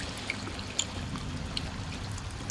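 Soft, continuous flowing and trickling water in the survival video game Sons of the Forest, a low steady wash with a few faint splashy ticks and no voices.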